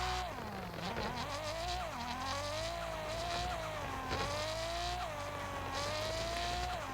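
An old car is driven and drifted in the Car Parking mobile game, its synthetic engine note rising and falling steadily as it revs through repeated acceleration swells, with no talk over it.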